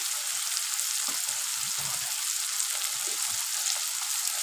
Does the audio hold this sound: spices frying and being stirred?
yes